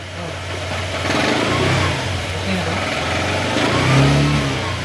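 A Honda Click 125 V3 motor scooter engine with an engine noise fault runs close up, idling roughly then revving in surges, a steady loud mechanical drone throughout.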